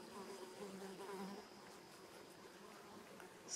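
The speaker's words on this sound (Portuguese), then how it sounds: "o trabalho incansável das abelhas" Bees buzzing faintly around white mallow flowers in the open air, a soft, wavering drone drifting near and away for a few seconds, with no talking.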